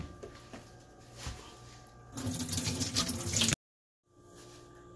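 Tap water runs over soaked beans during rinsing, a soft watery trickle that swells into a louder gush, cuts off, then returns faintly.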